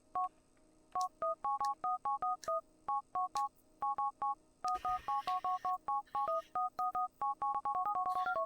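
Touch-tone keypad beeps as a cheat number is dialed on a mobile phone in Grand Theft Auto IV, a quick run of clear two-tone presses in short clusters, with a brief noisy burst midway and then a faster string of rapid tones.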